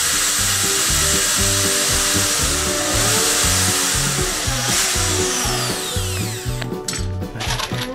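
Power drill driving the last deck screw into a wooden bench seat, a steady, loud, pulsing motor whir with a rhythmic ratcheting beat that slows and roughens near the end as the screw seats.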